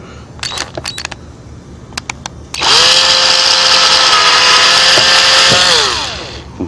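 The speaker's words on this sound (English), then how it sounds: "I need to drill a hole here" A few sharp clicks and taps, then a power drill whines loudly and steadily for about four seconds before winding down, drilling a hole while installing 6x9 speakers in a 1996 Nissan Maxima.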